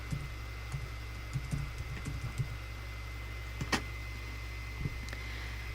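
Computer keyboard typing comes as a short burst of light, quick keystroke clicks over a steady low hum, then a few isolated taps after a pause, soft and close with no voice.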